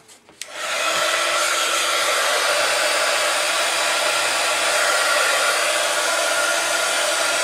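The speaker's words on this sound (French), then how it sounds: "on va chauffer un petit peu tout ça au heat gun pour bien le sécher" A heat gun switches on with a brief click and then blows a steady, loud, close whoosh, drying embossing powder with no break or talking.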